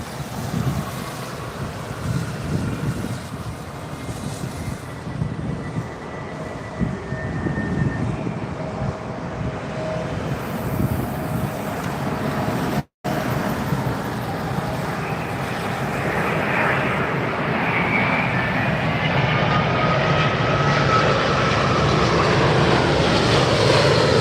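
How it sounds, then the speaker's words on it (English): An Airbus A330 arriving on runway 27R at London Heathrow, its broad jet roar building steadily and growing louder over the clip, mixed with heavy wind buffeting the microphone and no talk. "Here comes the A330."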